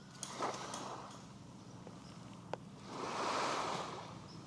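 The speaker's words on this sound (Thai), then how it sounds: "ให้ท่านได้ยินเสียงของคลื่นนะครับ" Ocean waves breaking on the beach at Pattaya, heard as soft, distant surges of surf rising and falling, with one wave swelling more strongly near the end and a few faint clicks.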